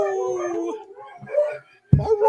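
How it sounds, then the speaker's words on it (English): Huskies howl and whine in drawn-out, wavering cries, close and fairly loud, breaking off briefly before a sharp yip-like burst. "Those are some chatty dogs."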